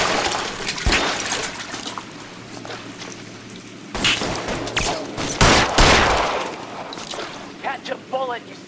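Gunfire in the video game L.A. Noire, a burst of sharp shots and crackling volleys mixed over game ambience and shouted voices, with loud bursts near the start and around the middle.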